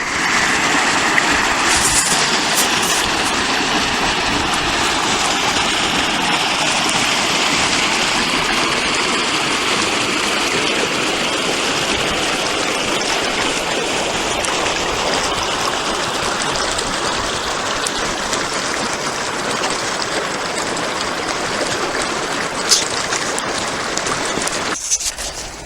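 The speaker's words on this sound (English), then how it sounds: "So the water comes tumbling down into this diversion channel" Stream water tumbling down a small fall of about 2.5 feet into a diversion channel on Caribou Stream in Twain, California, a loud, steady, close rushing roar that holds unbroken throughout.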